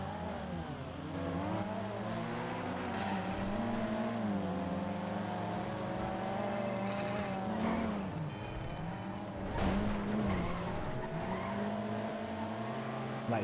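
A car engine revs and whines steadily in a racing video game, pitch rising and falling with shifts, loud and continuous throughout.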